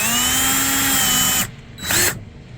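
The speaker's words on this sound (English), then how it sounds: "And then I'll drill the other one." A power drill whirs steadily for over a second, drilling holes on a C&C 39 sailboat while fitting a Raymarine autopilot wheel drive, stops, then gives a second short burst before falling quiet.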